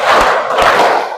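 A classroom of students claps loudly in a rhythmic 'tepuk 4' pattern, heard as two sharp thumping beats over a short, dense burst of crowd noise.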